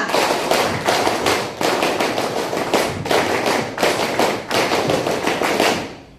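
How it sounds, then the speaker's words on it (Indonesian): A scout assembly in Coblong claps the tepuk pramuka in unison, a loud, crisp rhythmic pattern of grouped hand claps repeated in several bursts with short pauses between them. "2 kali tepuk pramuka"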